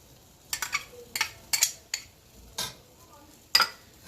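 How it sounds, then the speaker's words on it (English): Chopped onion and ginger going into a veggie stir fry pan, heard as a series of sharp clinks and scrapes of utensil on pan, spaced irregularly, close and fairly clear. "We're going to add 1/4 cup of chopped onion and the rest of our ginger."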